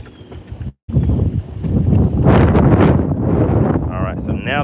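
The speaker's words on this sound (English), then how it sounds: "All right, so now the wind is shifting." Strong, gusty wind roars across a lake during bass fishing, buffeting the microphone in a loud, continuous rush with one brief dropout near the start and rising gusts afterward.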